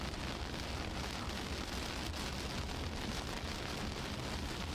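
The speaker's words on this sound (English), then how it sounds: "You can hear all that rain just battering his windshield." Heavy rain batters a car windshield during a strong summer storm near Coldwater, Michigan, a continuous loud roaring wash of water with no breaks, close and alone without talk.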